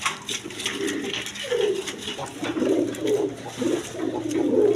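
A pair of pigeons coo repeatedly, soft throaty rolling calls close by in a bird market, over a steady hum of background noise.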